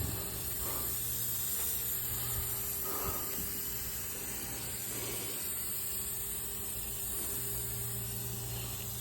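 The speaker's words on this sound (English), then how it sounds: "Now let's spray the chains." Lubricant is sprayed onto the chains of a machine in a steady hissing spray that runs through the whole stretch, with faint engine hum and mechanical noise underneath.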